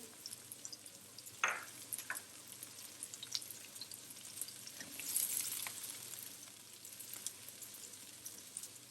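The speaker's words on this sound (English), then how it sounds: "So there's my olive oil. I'm going to pour in, use my onions just to saute them" Soft, steady sizzling of onions frying in olive oil, with a few scattered pops and crackles; quiet and close, no voices.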